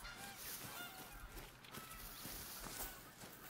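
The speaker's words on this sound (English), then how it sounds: "I don't see the geese. I hear them." Geese honk repeatedly at a distance in the hunting game theHunter: Call of the Wild, faint and scattered, with soft footsteps and a low background hum.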